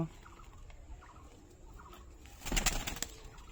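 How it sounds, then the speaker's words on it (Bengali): Madras pigeons coo in a faint, soft, repeated warble, and a louder burst of bird noise and rustling comes in near the end. "এটাও ম্যাড্রাস পায়রা আছে দাদা"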